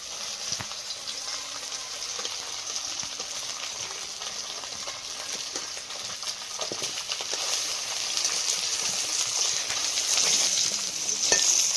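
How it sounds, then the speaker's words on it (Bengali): Fish heads fry in oil in a wok, giving a steady broadband sizzle with small crackles and stirring knocks that grows slightly louder toward the end, with no voices. "কড়াই তেল দিয়ে দিয়েছি আগে মাথাগুলো ভেজে নেব"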